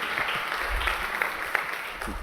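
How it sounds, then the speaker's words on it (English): Audience applause at a UNESCO chair inaugural event, welcoming the speaker for the introductory address; steady, moderately loud clapping fills the short span without pause. "Please give him a big round of applause so he can give the introductory address."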